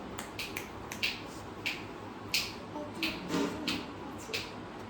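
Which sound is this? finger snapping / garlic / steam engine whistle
finger snapping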